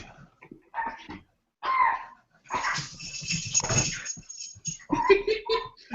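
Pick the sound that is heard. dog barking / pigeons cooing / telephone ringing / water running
dog barking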